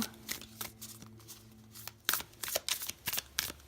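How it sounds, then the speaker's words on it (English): Oracle cards being shuffled up close, first soft sliding riffles under a faint background hum, then a run of crisp, rapid riffling bursts. "After I do a little shuffle."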